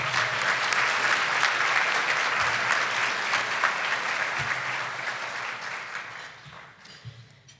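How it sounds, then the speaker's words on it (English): Audience applause fills a conference hall at a business economic outlook event, loud and sustained at first, then gradually thinning and fading out toward the end with a few last claps. "Let's give them a round of applause."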